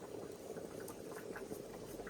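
A pot of kappa biryani (tapioca with turmeric, chili powder, salt and coconut oil) bubbles at a steady boil, a dense continuous simmering texture with soft pops, close and fairly quiet, with no talking.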